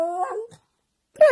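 A dog howls like a wolf on cue, giving a short rising tonal howl, a brief pause of silence, then a second loud wavering howl, close and clear.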